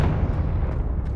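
A Confringo blast spell in the Hogwarts Legacy game: a single heavy, booming explosion with a rumbling low body fills the whole brief moment and stays loud throughout.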